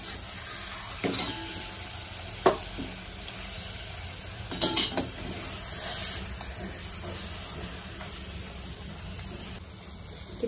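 Mutton sprinkled with turmeric is stirred in a hot pan for dal gosht, a steady sizzle and hiss broken by a few scraping knocks of the spoon against the metal, close up, with no talking.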